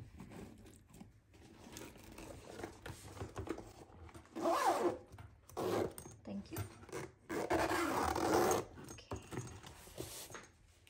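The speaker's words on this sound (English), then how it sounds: "I'm just putting away the tools I was using and zipping it back up." A pink tool set case zipped closed by hand gives a long run of close zipper rasps in several pulls of varying length, mixed with faint rustling and small clinks of the tools inside, with no talking.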